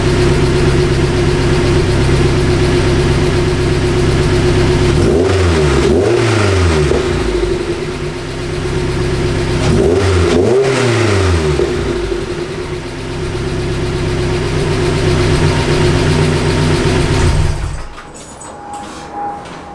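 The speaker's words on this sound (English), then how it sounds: "I think I'll give you guys a couple revs." A Mazda NC Miata with a swapped 2.5-litre engine and upgraded cams idles loudly up close and is blipped through two sharp revs before it shuts off near the end.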